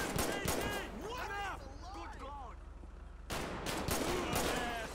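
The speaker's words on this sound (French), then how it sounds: "y a des coups de feu là sur place" Rapid gunfire in the video game GTA 5 during a police response to a robbery, dense bursts of shots repeating near and loud, with tonal sweeps and chatter mixed underneath.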